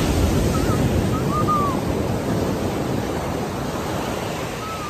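Sea waves wash continuously onto a beach at Pangyan, Glan, a loud, steady broadband roar that eases slightly toward the end, with no voices.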